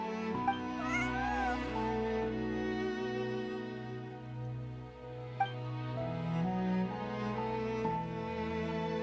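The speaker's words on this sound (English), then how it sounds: "Meow meow." Cat meowing in the Genshin Impact video game, several short mews over a steady layer of game music, moderately close and fairly quiet.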